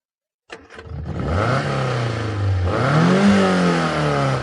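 A car engine starts up and runs steadily, rising in pitch as it revs while being driven round, loud and close with no talk over it.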